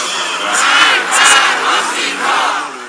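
Huge mourning crowd at Ebrahim Raisi's funeral in Tehran, a dense roar of many voices with rising and falling waves of chanting, loud and continuous throughout.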